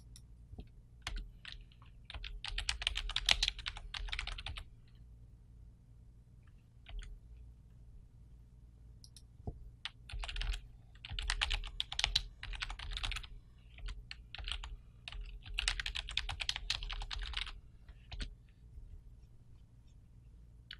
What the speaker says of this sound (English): let's see if we typed in pop socket reviews